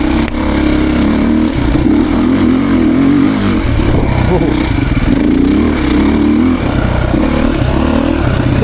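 A Beta dirt bike engine revs loudly and close for the whole stretch, its pitch rising and falling in repeated throttle swells over a steady rumble.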